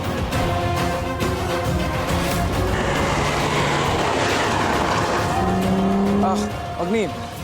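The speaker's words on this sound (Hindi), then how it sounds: "ये कार बार बार हमारे चक्कर लगा रही है" A car drives in circles with its tires squealing, a continuous engine roar and skidding tones that rise and fall near the end, under a constant background of voices and music.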